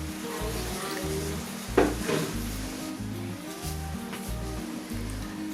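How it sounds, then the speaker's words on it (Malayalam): Jaggery syrup with added coconut milk boiling in a pot as it is stirred, giving a continuous bubbling sizzle with a sharp utensil knock partway through, no voices. "ഇത് ചേർത്തതിന് ശേഷം ഇതൊന്ന് ഇളക്കി കൊടുക്കാം കേട്ടോ."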